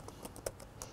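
Keys clatter on a computer keyboard as an SQL query is typed, a steady run of close, crisp clicks with one slightly louder stroke midway, no voices.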